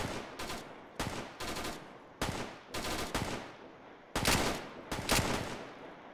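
Automatic machine gun fire in the military shooter Arma 3, loud bursts repeating in several separate volleys with short pauses between them, no voices.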